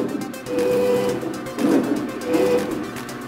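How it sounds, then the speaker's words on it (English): An embroidery machine tracing a design outline before stitching beanies and shirts, a close, steady mechanical whir that rises and falls in pulses, with short tonal chirps from the motor and no talk. "I'm gonna do what is called a trace, and I have to make sure that the machine is right in the center"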